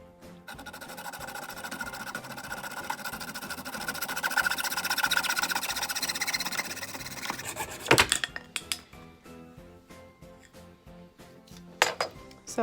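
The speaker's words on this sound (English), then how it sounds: "this is literally just a plain old hacksaw" A plain Husky Junior hacksaw cuts through PVC pipe in a fast, rasping back-and-forth rhythm, close and fairly loud. It stops partway through, followed by a few scattered clinks and handling noises.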